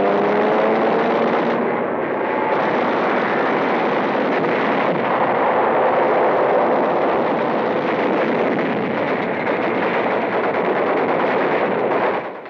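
Dense, continuous gunfire and rumbling battle noise from Japanese positions on the beach at Tarawa in 1944 fills the whole stretch at a steady, heavy level, with no one speaking.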